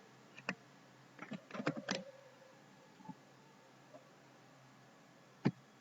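Typing a password on a computer keyboard while setting up a user account gives soft, sparse key clicks in a quiet room, a short burst in the middle and a few isolated taps.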